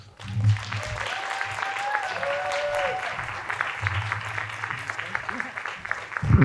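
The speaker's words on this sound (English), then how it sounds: "why don't y'all go ahead and give them a round of applause" A round of applause from an audience at a juvenile justice reform presentation, continuous clapping with low hum and voices underneath, tapering slightly toward the end.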